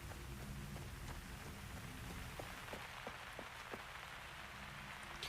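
Steady rain falls in the video game Uru: Ages Beyond Myst as a dense, even hiss, with scattered drops tapping close by. It runs alone throughout at a constant level.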